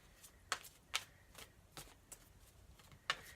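Tarot cards shuffled and pulled from a deck in a quiet room, giving a series of sharp, close riffling snaps and softer card slides spaced irregularly, with no talking.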